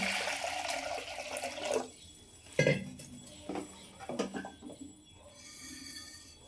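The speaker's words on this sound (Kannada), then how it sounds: "ಇವಾಗ ಒಂದು ಕುಕ್ಕರ್ ತಗೊಂಡಿದ್ದೀನಿ, ನೀರು ಹಾಕ್ತೀನಿ ಅಂತ." Water pours into a metal pressure cooker for a couple of seconds, followed by a few soft clinks and quieter handling noises.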